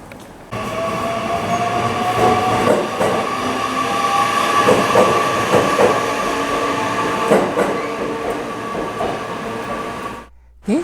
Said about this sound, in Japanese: 電車が発車し乗降客がいなくなると駅はひっそりしました